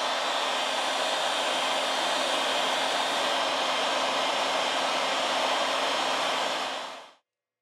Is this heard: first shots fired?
no